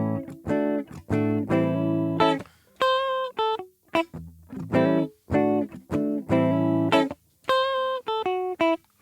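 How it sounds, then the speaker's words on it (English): Guitar bar chords played in an A gospel quartet drive pattern ring out in short, steady rhythmic strums with brief gaps and occasional single-note runs, clear and close with no talk. "we're going to move it up to A, I'm going to play that little bar chord, right? And we could play the exact same pattern as down here"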